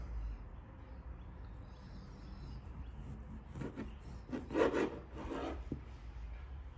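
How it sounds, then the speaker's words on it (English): Knife slicing cooked brisket, faint rasping and scraping strokes that grow more distinct after a quiet start, with a few brief bursts near the end, no talking. "Let's bring it out and we'll just start slicing this up."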